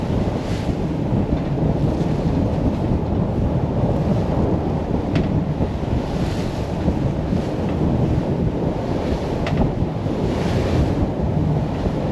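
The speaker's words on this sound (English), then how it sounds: "Look at this messy ocean right here." Choppy, messy ocean waves slosh around a boat in the InTooDeep video game, a steady, loud broadband wash with no let-up, rumbling like wind and surf, with no voices.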